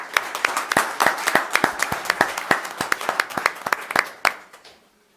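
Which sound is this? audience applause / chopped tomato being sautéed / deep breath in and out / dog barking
audience applause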